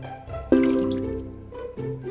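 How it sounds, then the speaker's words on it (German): Water poured in the cooking game Cooking Academy 3, a short bright splash and trickle that starts suddenly, fades over about a second, then a second brief pour follows. "Wenn Wasser reingekippt, kommt das Wassergeräusch."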